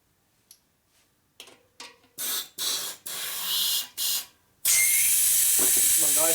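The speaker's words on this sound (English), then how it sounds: "Just enough to use the air nozzle on it. You blow it up a couple times" After a few faint ticks, an air nozzle blows short hissing bursts into a motorcycle tire tube on a Harley Evo chopper, then gives one loud continuous blast.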